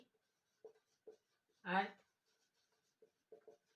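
A pen scratches on paper in short, quiet strokes, with one brief vocal sound partway through.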